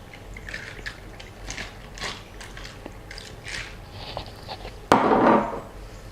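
Milk is poured into a cup of ice for an iced caramel latte, with a soft liquid splash and crackle of ice near the end. Faint clicks and handling sounds come before it.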